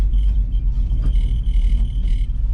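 An old car pulls off down the road, its engine giving a loud, close, throbbing low rumble that pulses steadily as it drives away, with no talking.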